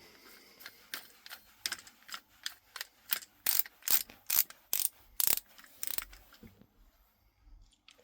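Rear drag of a Shimano Sedona 3000 spinning reel being put back on after cleaning, giving a run of sharp, close ratcheting clicks that grow louder midway and then fade to quieter handling, no talking.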